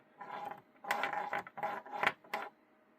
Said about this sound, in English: I've got 1/4 inch wrench. So that'll fit right into it